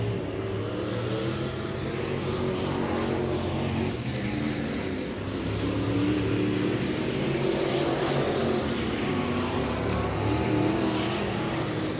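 Late model race cars running laps on a dirt speedway during a World of Outlaws Late Model Series event at Senoia Raceway, a steady, loud, dense engine roar throughout.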